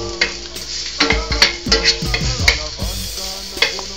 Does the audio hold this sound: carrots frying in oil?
yes